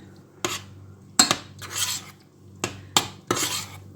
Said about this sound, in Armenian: Հիմա խառնում եմ։